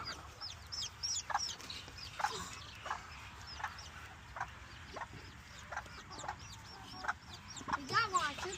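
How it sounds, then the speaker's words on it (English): A flock of Old English chickens clucks and chatters continuously, with scattered sharper calls rising over a soft outdoor background. "We got one chicken over here."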